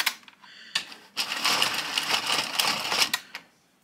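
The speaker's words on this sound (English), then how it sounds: "I'm going to cast on to my machine using my waste yarn." An Addi Sentro circular knitting machine cranks as it casts on with waste yarn, giving a dense rattling, clicking whir of plastic needles that runs for a few seconds after some scattered knocks, then stops.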